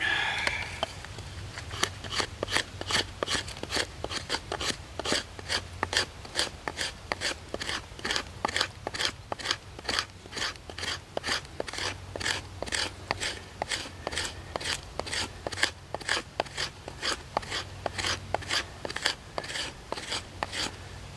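A Battle Horse Knives Attitude knife spine scraped repeatedly along a ferro rod, producing a steady run of sharp, rasping strokes in even rhythm, close and fairly loud, with no talking.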